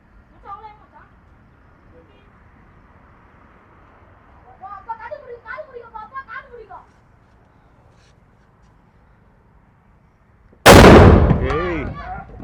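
A single sharp, very loud Diwali firecracker bang bursts near the end after a long quiet stretch, with brief chatter and bird calls earlier.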